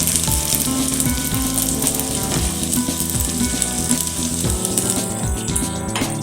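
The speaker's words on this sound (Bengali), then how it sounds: "আর হাতার পিছন দিকটা দিয়ে পুরো ফ্রাইং প্যানে এটাকে ছড়িয়ে দেবো।" Semolina paratha batter frying in a frying pan, a steady loud sizzle with occasional scraping as it is spread across the pan, heard close with no voices.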